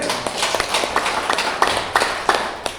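An audience at a business seminar gives a short round of handclaps, a few sharp, fairly close claps standing out at an uneven rhythm over a softer patter of clapping.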